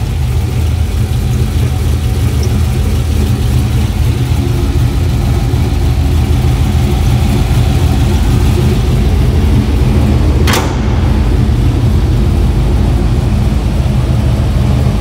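A 1969 Chevrolet C10 pickup with a turbocharged LS V8 swap runs steadily, a continuous low engine rumble with no clear revving, plus one brief sharp click midway.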